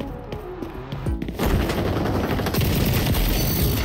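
Gunfire in the online shooter XDefiant: a few scattered shots, then a dense, loud burst of rapid automatic fire that continues without pause, heard close in the game mix.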